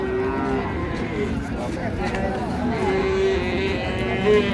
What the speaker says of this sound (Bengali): এই যে বকন বাচ্চা বেশ সুন্দর গাভী বাচ্চা আমরা দেখছিলাম